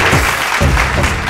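Loud, dense applause from a studio audience at a Bhojpuri singing competition show welcoming a singer, a steady wash of clapping with no gaps throughout the short clip.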